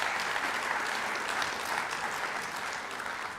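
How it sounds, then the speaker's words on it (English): A crowd claps at the 2025 Superior Hall of Fame ceremony, giving a thick, even wash of applause that holds steady and tapers slightly at the end, with no speech over it. "we can give them a round of applause right now"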